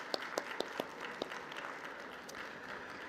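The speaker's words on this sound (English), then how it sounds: "please, a round of applause for our panelists" Audience applause for a panel of speakers at a university conference, with a dense steady wash of clapping and a few sharper individual claps standing out near the start.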